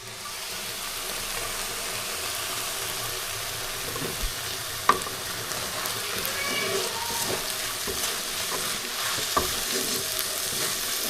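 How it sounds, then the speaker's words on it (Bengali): Taki fish bharta frying and being stirred in a pan, with a steady sizzle and occasional scrapes and knocks of the spoon throughout, close and continuous. "মাছের ভর্তা তৈরি করা হচ্ছে"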